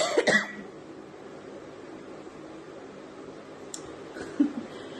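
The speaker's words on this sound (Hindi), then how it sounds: "खांसी आती रहती है ना, बोलना भी मुश्किल हो जाता है" A woman coughs a few times in a quick burst at the start, then a fainter throat sound near the end, set against a quiet indoor room with low background hiss.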